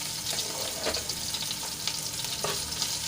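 Chopped green chillies and crushed ginger sautéing in oil for a fasting-day sabudana dish, a continuous close sizzle with soft crackles and the occasional scrape of a spoon stirring through the pan.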